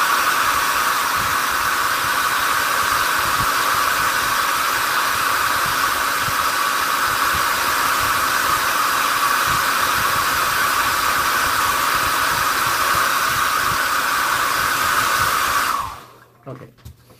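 A hair dryer blows steadily and loudly nearby with a constant rushing hiss for about sixteen seconds. It then cuts off, leaving faint handling sounds behind.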